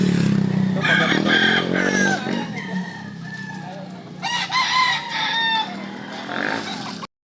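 Roosters crow nearby in a couple of long, strained calls with some clucking between them, while a motor hums faintly in the background.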